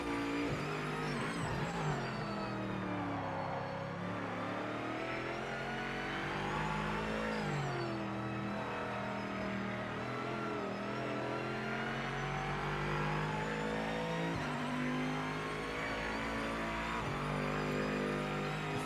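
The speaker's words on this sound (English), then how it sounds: "Can you guys hear the whining on the engine?" A Morgan with a V engine whines and revs on a racing track in Project Motor Racing on PS5. The steady engine note climbs and falls in pitch with gear changes for the whole stretch, with no talking over it.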